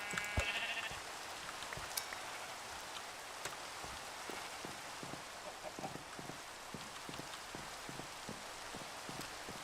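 A sheep bleats in the Minecraft modpack Sky Factory 4, its short game bleats mixed with a steady patter of rain-like noise that runs throughout.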